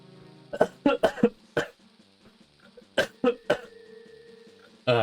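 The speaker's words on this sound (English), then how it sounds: "The cough just keeps getting worse." A series of harsh, raspy coughs from a worsening cough, in short bursts, some in quick clusters, close to the listener with quiet pauses between them.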